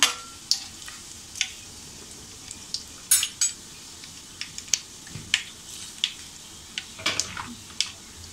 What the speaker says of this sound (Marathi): दोन तेजपत्त्याची पानं, एक दालचिनीचा तुकडा आणि 4-5 लवंगा. आपण हे छान असं परतून घेऊया.